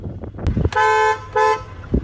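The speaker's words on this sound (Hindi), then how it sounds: "डुअल टोन हॉर्न है" Dual-tone horn of a 2022 Hyundai Tucson Signature HTRAC, two loud close honks in quick succession with brief handling noises around them.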